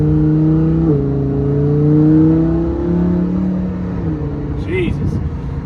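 A 2019 Lamborghini Huracan Performante engine in sport mode rumbles loud and close, its pitch rising and settling through shifts, with excited talk layered over the exhaust note.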